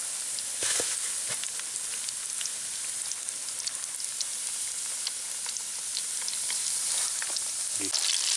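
Milanesas frying in hot oil in a pan over a small gas burner at a lakeside camp, a steady close hiss with constant fine crackling and popping throughout.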